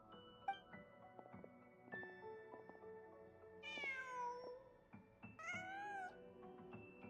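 In the Genshin Impact 6.3 game, a cat meows twice in long, drawn-out calls over soft, steady in-game music and ambient tones.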